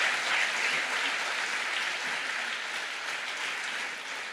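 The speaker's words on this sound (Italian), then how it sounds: "facciamo un applauso a questa fonte." Audience applause at a talk with Stefano Bollani and Mauro Biglino, a steady, even wash of many hands clapping at moderate level, easing slightly toward the end.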